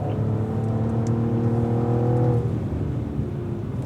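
A Cadillac V-series race car on a track holds a steady, loud engine tone with smooth rising harmonics as it accelerates, then the pitch drops away as it lifts off the throttle.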